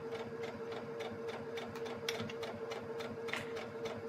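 A sewing machine stitches fabric slowly around a curve, a quiet, even mechanical ticking and hum running steadily throughout at close range.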